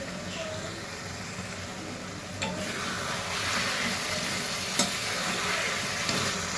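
Soaked potatoes frying with mutton liver in a pan make a steady close sizzle, with spoon scrapes and stirring knocks over it and a sharp clatter near the end.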